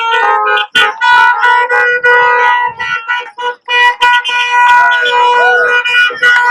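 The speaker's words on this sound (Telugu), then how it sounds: "సో అందరూ ఇలా హారన్ కొట్టుకుంటూ వెళ్తారనమాట ఇప్పుడు." Many car horns blare loudly and continuously in a fuel-price and farmers' protest in Ireland, overlapping tones sounding together in sustained blasts with brief gaps, close by amid street noise.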